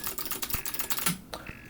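A pulse-sending Eurorack modular module from ELC Systems clicks close up, with a rapid run of dry, light clicks followed by a few sparser clicks.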